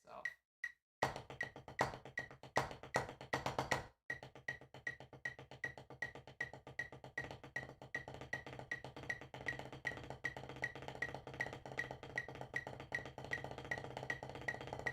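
Rapid snare drum strokes play rudiment patterns back to back, dense and steady, with brief breaks near the start before a long continuous run.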